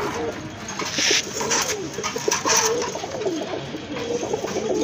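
Several pigeons, a top-quality pair of American birds among them, coo in low repeated phrases through a loud, busy loft soundscape.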